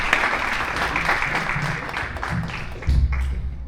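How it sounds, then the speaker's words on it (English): An audience applauds steadily after a book distribution announcement at a Bhagavad Gita program, a dense wash of clapping from a crowd with a fuller burst near the end. "Let's give a big round of applause."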